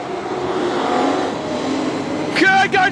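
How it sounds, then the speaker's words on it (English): Race cars in an AMCA Nationals final at Carina Speedway roar past with a steady engine drone, rising to a brief burst of revving near the end, heard under a commentator's running call. "Down the front straight, Robertson gets past the inside of Holland."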